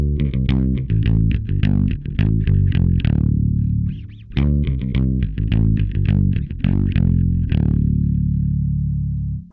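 Bass through a Behringer BDi21 preamp pedal with the effect on: a run of punchy, gritty picked notes in a steady rhythm, a short pause, then a second similar phrase ending on a held note.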